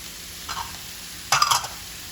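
Jackfruit carnitas with cayenne pepper stirred in a hot pan, two short bursts of scraping and sizzling over a steady background hiss, the second louder and longer.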